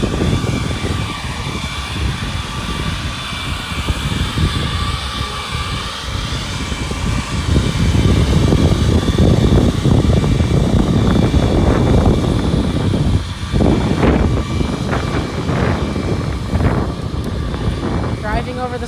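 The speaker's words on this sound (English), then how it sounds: "he's using it to blow leaves" A handheld leaf blower from the Yarbo yard system blowing leaves outdoors, a loud steady whooshing roar with wind noise that swells midway, with people talking over it.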